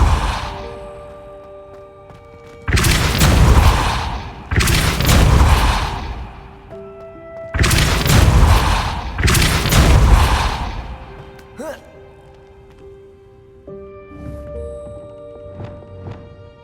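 Depulso spell bursts in a magic school video game, four loud broadband whooshing blasts in two pairs, each about a second long, followed by faint ringing tones and quieter game ambience.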